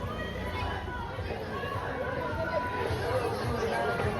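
Dense crowd babble at a crowded village fair, a steady wash of many overlapping voices close and far with no single speaker standing out, continuous throughout.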